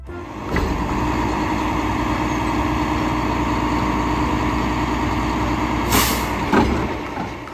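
A garbage truck idles nearby with a steady, rumbling engine drone, broken by a short hiss of air brakes near the end.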